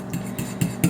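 A utensil scrapes and taps against a bowl in four quick strokes while a marinade for grilled lamb chops is mixed. The sounds are close and clear, with no talking.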